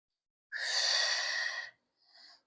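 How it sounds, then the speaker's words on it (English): A long, breathy exhale fills over a second during a reformer stretch in a Pilates class, followed by a short, softer second breath, close and with no talk. "Find a release here for an inhale and an exhale."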